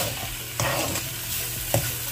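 Khoa and sugar being stirred and sautéed in a pan over medium heat, a soft steady sizzle with a few louder scraping stirs, close and alone without talk.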